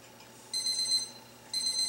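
A kitchen timer beeps in two short bursts of bright, high electronic tones, a second apart, while broccoli roasts on a sheet tray. The beeps are close and clear over a faint steady room hum.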